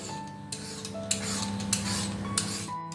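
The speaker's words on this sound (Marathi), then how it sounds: "सर्वप्रथम मी ही काकडी घेते तिला अशी सोलून घेते" A cucumber being peeled by hand in a home kitchen while preparing paratha, heard as close, repeated rasping strokes with light scraping and occasional soft knocks, no talking.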